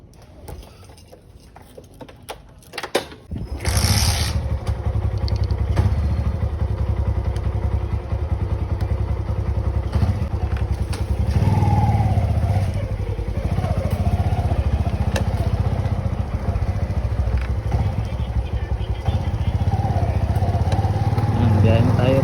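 A motorcycle engine starts up and runs at a loud, steady idle and rev as riders set off, close and continuous, with a few clunks before it fires and voices talking faintly under it.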